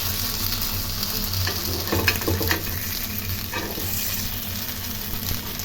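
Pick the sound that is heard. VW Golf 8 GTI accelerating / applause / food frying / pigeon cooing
food frying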